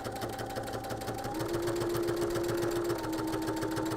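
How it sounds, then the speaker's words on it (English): A sewing machine stitches fabric held with Wonder Clips in a rapid, even mechanical chatter, with a steady whine that shifts pitch partway through, close and moderately loud. "I'll show you how easily it's going to glide through the sewing machine"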